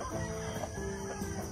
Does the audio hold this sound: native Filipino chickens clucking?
yes